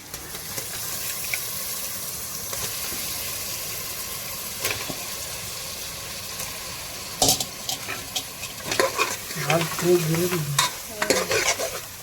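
Peeled, washed prawns tossed into a sautéed tomato masala gravy, stirred with a spoon. Continuous frying hiss runs under repeated scraping and clattering strokes that grow busier and louder toward the end.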